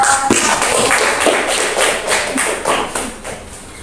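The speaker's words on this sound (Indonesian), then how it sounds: "Beri tepuk tangan kepada kelompok" A group in a classroom claps for another group, a close, rhythmic patter of hand claps lasting a few seconds without talk.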